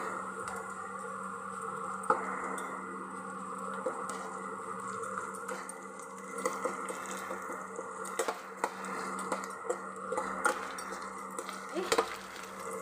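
Ginger garlic paste and curry leaves frying in a pan, a quiet continuous sizzle with occasional ticks and scrapes of stirring, heard close and without talk.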